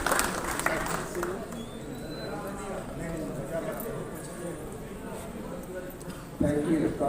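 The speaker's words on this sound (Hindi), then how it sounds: "राजू मांझी के लिए जोरदार तालियां, इस फिल्म की राइटिंग के लिए" Film festival audience applauding a film's writer at an awards ceremony, a steady crowd clapping running beneath a loud presenter's voice, with a sharp burst of louder applause near the end.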